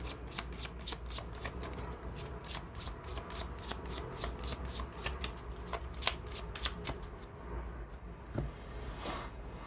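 Cigano tarot cards shuffled by hand, a steady run of riffling, flicking card snaps close up over a soft background hiss, easing off near the end.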